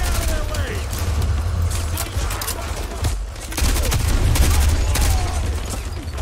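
Gunfire in the Call of Duty Modern Warfare 2 video game, dense rapid bursts of shots and booms rattling continuously throughout, loud and close, with a player talking at times.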